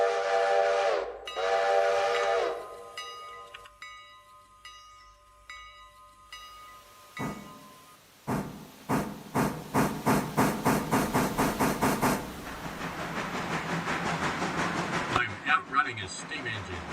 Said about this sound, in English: A steam engine, just saying.